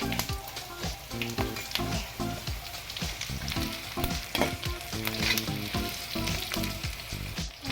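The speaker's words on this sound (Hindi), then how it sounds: "तो ये अपन देख पाँच आम जीरा रे भलसे भाजी हो सारा" Cumin seeds fry in oil in a kadai for jeera rice, a continuous close sizzle with crackling pops and occasional stirring scrapes, no voices present.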